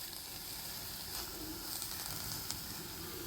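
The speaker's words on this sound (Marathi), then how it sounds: "आपली मेथीची भाजी या ठिकाणी परतून झालेली आहे" Fenugreek leaves (methi) sauté in a pan with a soft, steady sizzle and faint crackle, close and quiet, with a few light scraping touches and no talk.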